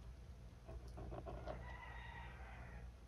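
A few chickens cluck and squawk close by, a short burst of calls before settling into a quieter murmur.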